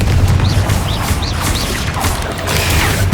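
Explosive spells go off during Hogwarts Legacy combat, with heavy booms and crashing impacts over a dense rumble of bright magical whooshes and chirps, loud and continuous with no talk.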